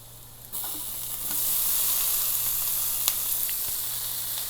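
Onions sizzle in butter in a pan, a loud steady frying hiss that rises sharply as they hit the fat and continues unbroken close by, with a few small pops and no talking.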